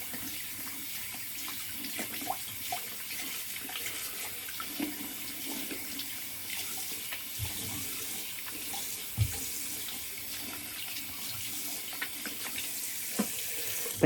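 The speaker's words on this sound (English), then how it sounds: "And now I'll use cold water to get this alum off." Cold tap water pours steadily into a bathroom sink during a wet shaving routine, a continuous moderate splashing hiss with small occasional bumps and no talking.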